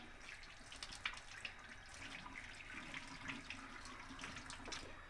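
Tap water runs steadily over a freshly cut flounder fillet at a sink, a soft continuous splashing and trickling at close range, quiet and without voices.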